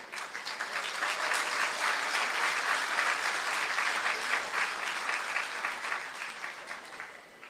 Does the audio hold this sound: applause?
yes